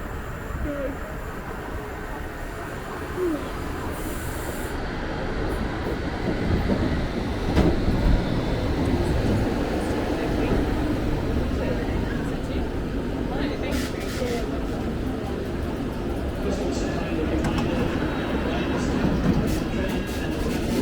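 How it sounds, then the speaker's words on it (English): A London Underground Metropolitan line train arrives at the platform with a steady, loud rumble and clatter of wheels that runs throughout, while a voice speaks over the noise. "This is a Metropolitan Line train to Holgate."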